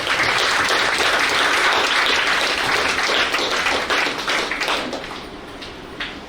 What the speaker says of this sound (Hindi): एक ज़ोरदार आप उन बच्चों के लिए तालियां बजाएं जो यहाँ पर टॉपर्स बैठे हुए हैं